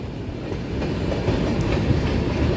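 A northbound train rumbles past close by in the dark, its continuous heavy roar rising slightly with steady clickety-clack of wheels on rail, no voices over it.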